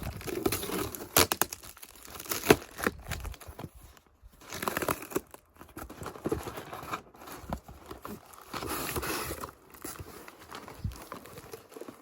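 Packing tape rips and cardboard crinkles in rough, repeated bursts as a box is pulled open close by.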